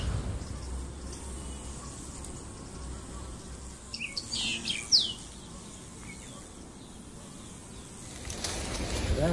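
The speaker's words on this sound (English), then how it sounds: "once you get above 19 degrees centigrade, the insects are flying." Flying insects buzzing in a warm South African garden in Southport: a faint steady outdoor hum with a few brief buzzes passing close by midway, and faint birds in the background.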